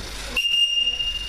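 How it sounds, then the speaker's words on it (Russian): A whistle blown in a school sports class, one sustained piercing blast starting abruptly and holding steady in a reverberant gym. "Свисток, вы поменялись сразу местами."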